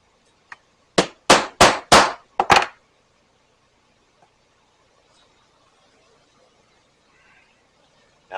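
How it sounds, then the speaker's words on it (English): A leather punch is hammered through two thicknesses of leather over a poly cutting board: one light tap, then five sharp, loud strikes in quick succession, followed by near silence. "Use the same punch. Go through both thicknesses again."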